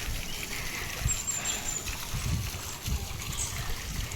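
Water pours steadily from an outlet beside a small building housing a machine, outdoors in strong sun, a continuous broadband rushing trickle with no talk over it.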